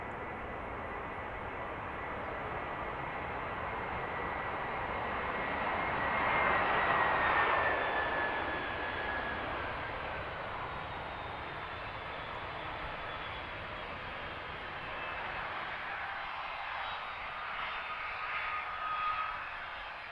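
An Air Transport International cargo jet taxis to park at Allentown airport, a steady, loud engine roar with whining tones that swells midway and holds on for the full stretch, with no talking over it.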